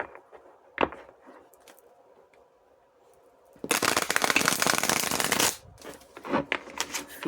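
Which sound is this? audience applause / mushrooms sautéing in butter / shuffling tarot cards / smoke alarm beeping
shuffling tarot cards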